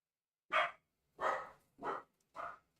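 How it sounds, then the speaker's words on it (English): A dog barks four times in an uneven rhythm, each bark sharp and clear against an otherwise quiet background, heard from a moderate distance. "I bet you guys hear that dog barking."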